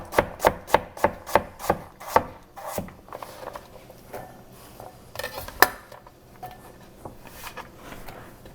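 A knife chopping cooked vegetables on a cutting board for homemade vegetarian dog food: about ten quick, crisp, evenly spaced cuts at close range, then softer scraping and a few scattered knocks, with no talking.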